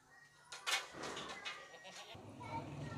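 A young two-toothed sacrificial goat bleats a few times amid shuffling and handling noise, with people talking nearby.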